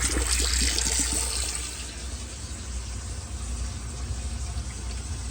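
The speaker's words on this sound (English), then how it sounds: "Fill up our sink, pull the stopper, let it drop down, make sure your water's good." Water drains from a kitchen sink after the stopper is pulled on a newly installed garbage disposal, a steady gurgling rush with some sloshing at first, continuous and close.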